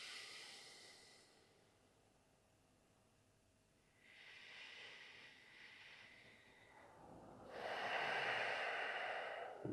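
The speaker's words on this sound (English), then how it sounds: "to breathing in and out of the nose." Slow, steady breathing in and out through the nose during a guided breathwork meditation, soft airy inhales and exhales that grow louder toward the end, heard alone with no talking.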